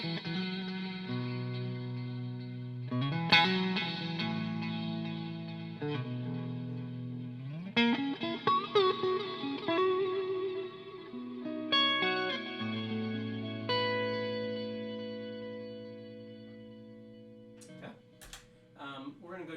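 Electric guitar through a univibe-style pulsing modulation preset with built-in delay, chords and single notes ringing out with swirling chorus-like wobble and echo trails, loud and continuous, no talking.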